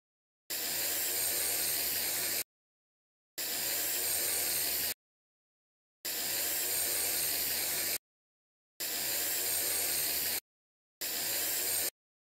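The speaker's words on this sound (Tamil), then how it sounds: "செயின் லூப் வச்சு செயின் ஃபுல்லாக ஸ்ப்ரே பண்ணுங்கள்" An aerosol can of chain lube sprays onto a motorcycle chain in five steady hissing bursts of about two seconds each, separated by short silences, close and fairly loud.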